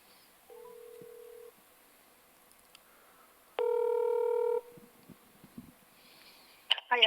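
A telephone call is placed: a short tone, a pause, then a longer multi-tone ring or connection signal, followed by faint clicks and a brief voice as the line connects.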